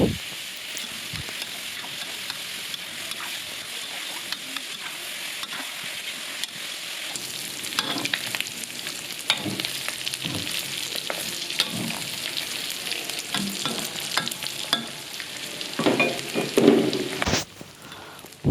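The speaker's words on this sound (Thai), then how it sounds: "ใส่น้ำปลาลงไปแล้วนะคะ แล้วก็ผัดทอดไปเรื่อยๆนะคะ" Pork belly stir-fries in a pan with fish sauce, giving a steady crackling sizzle with scattered spatula scrapes and taps, fairly close and moderately loud, no voices.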